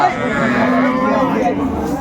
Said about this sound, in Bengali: দেখছিলাম এখানে সুন্দর গাভী বাছুর